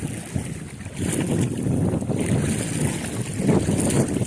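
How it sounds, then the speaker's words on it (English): A strong headwind of around 20–30 mph blows across a river, producing a constant, loud, rushing buffet against the microphone with splashing water underneath and no talking. "going upstream into a headwind of like 20-30 miles an hour right now"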